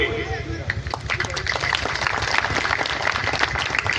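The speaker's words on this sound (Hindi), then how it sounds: "तालियां बजाइए" An audience claps steadily in a dense patter of applause, with voices talking over it throughout.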